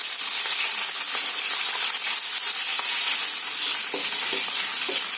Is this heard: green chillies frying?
yes